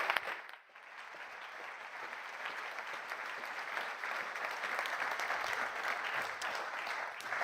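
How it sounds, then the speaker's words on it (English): A hall audience applauds to welcome a professor at an award ceremony, steady dense clapping that swells after a brief dip and carries on evenly throughout, with no voices over it. "Please welcome, with a very warm applause, Professor Dr. Joël Mezeaux."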